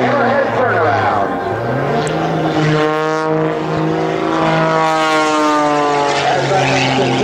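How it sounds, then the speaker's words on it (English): A custom-built aerobatic propeller airplane flying a routine at an air show, its loud engine droning steadily with rising and falling pitch as it climbs and turns, with an announcer speaking over it. "this aircraft was designed and built specifically for Sean"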